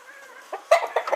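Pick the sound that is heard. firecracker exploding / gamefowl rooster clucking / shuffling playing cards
gamefowl rooster clucking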